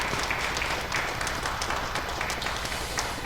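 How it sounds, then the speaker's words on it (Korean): A church congregation applauds during a worship service, a steady, dense patter of many hands clapping together that holds evenly for a few seconds without speech. "박수하면서 하나님께 영광의 말씀을 드리겠습니다"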